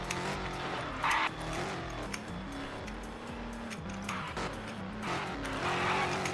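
A tuned Dodge Challenger slides a long way on a track with no brakes, its engine droning loudly while tires scrub and squeal in bursts, close and continuous.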